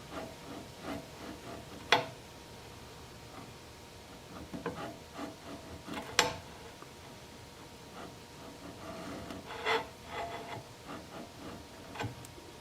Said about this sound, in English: So I'm just holding my chisel in place. I'm trying to scrape that off.